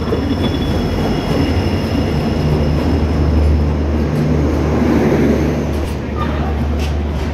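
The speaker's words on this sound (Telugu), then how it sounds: "Lingampalli to Mumbai Devagiri express. So వస్తుంది ట్రైన్, ఇదే మన ట్రైను." The Devagiri Express from Lingampalli to Mumbai rolls into a station, a loud continuous rumble of wheels and wagons with faint squealing, close by and steady throughout.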